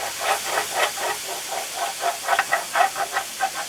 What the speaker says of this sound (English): I'm going to deglaze with 2 tablespoons of rice wine vinegar